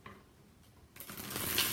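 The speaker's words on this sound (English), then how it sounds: "when you decide to stop shuffling, how that works" A tarot card deck being shuffled: quiet riffling at first, then a louder, crisp burst of rapid card flutter building toward the end.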